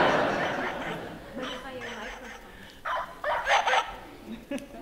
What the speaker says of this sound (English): It is wagging its tail, it is barking.